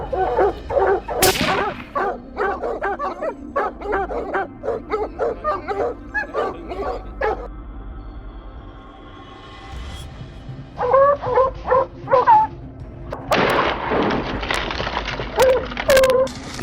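Hunting dogs on a boar hunt bark in a fast, loud, close series of sharp yips and bow-wows, pausing briefly midway before a fresh burst of overlapping barking, with a sharp crack near the start.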